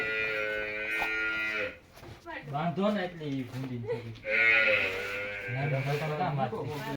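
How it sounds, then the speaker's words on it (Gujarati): Buffaloes on a farm, about to be milked, give several drawn-out, close lowing calls, one after another with short gaps between them. "જો સુરેશભાઈ ને કિશનભાઈ હવે ભેંસો ને મિલ્કિંગ કરશે"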